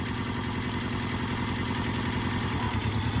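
A tractor engine idles and runs steadily at close range, a constant low mechanical drone with a throbbing pulse that holds even throughout.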